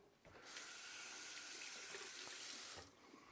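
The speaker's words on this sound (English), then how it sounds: "Again, rinse the spoon." Kitchen tap water runs steadily onto a spoon being rinsed in a sink, a continuous splashing hiss that starts abruptly, holds for about two seconds and cuts off, with no talk over it.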